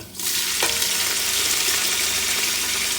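Beef stew ingredients hit a hot pan and fry with a sudden loud sizzle that settles into a steady, close crackling hiss, with no one speaking.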